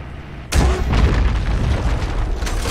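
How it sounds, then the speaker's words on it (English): A grenade goes off in the Deep Rock Galactic video game: a sudden loud, close boom that rolls into a long, rumbling roar of debris and echo, with no talking over it. "This is probably a waste to use grenades on that"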